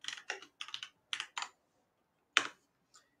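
Keys clatter on a computer keyboard as commands are typed into a terminal, in short quiet clusters of clicks separated by brief pauses, close and alone.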